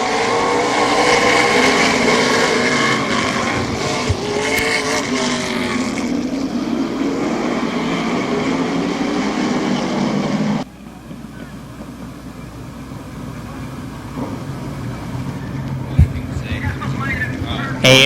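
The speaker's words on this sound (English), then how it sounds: "we got 34 laps into the 75-lap race as it's go time here at Barberton" Stock cars race at Barberton Raceway Park in a 75-lap event, a loud, dense engine roar that drops abruptly to a quieter rumble partway through, with commentary running over it.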